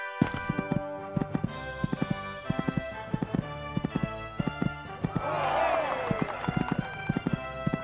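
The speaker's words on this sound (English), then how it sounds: "This horse is really jumping well for him." Rhythmic clip-clop of horse hooves in an equestrian video game, the galloping beats close and steady, with a brief rushing swell midway and faint talk in the background.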